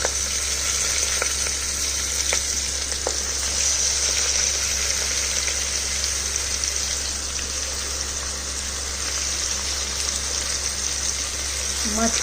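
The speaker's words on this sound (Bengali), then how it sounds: "এই পর্যায়ে আমি দিয়ে দিচ্ছি আমার এই কেটে রাখা লাউয়ের টুকরো করা।" Bottle gourd pieces sizzling in a pan with an already fried fish head, a steady close frying hiss running unbroken throughout with a few faint clicks.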